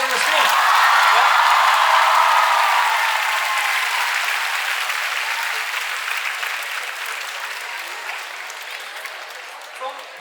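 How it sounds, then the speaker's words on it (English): A large audience at a film event breaks into loud sustained applause and cheering that slowly fades and thins over about ten seconds. "A huge round of applause for all those guys on the screen"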